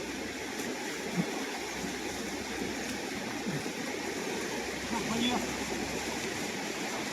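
A fast, cold river rushes past a shaded bank in the Anaimalai hills near Pollachi, a broad steady roar of flowing water close by with a few faint voices underneath.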